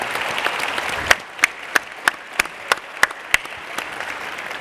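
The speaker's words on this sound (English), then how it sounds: "how about a big round of applause for our honorees, Grant Hill, Steve Smith, and Jason Collins" Applause from an event audience for sports honorees at a Memphis Grizzlies legacy award symposium, a soft bed of clapping punctuated by several sharp, louder individual claps in a loose, fairly regular rhythm.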